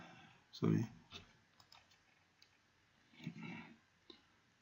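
Typing on a computer keyboard, a few scattered faint clicks with quiet gaps, alongside brief murmured voice sounds.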